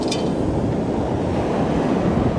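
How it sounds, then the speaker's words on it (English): Ocean waves roll in on a beach at night, a steady broad wash of surf with wind rumble against the microphone and no pause throughout. "it's when the waves want to come in"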